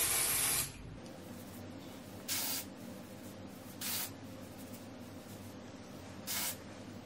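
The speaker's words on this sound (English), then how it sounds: "So I like to just spray it in my roots" Short bursts of heat protectant hair spray hiss close up, one long spray then three brief puffs spaced a couple of seconds apart, with quiet room noise between.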